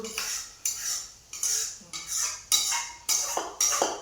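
A spoon scrapes and clinks against a metal pot while bhadang snack with farsan and sev is mixed, coming in about eight regular, close scraping strokes with no talk.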